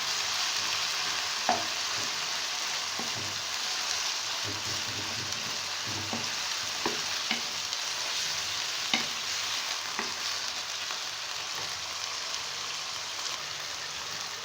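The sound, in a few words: chicken frying in a pan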